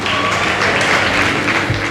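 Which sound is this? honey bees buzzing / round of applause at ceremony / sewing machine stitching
round of applause at ceremony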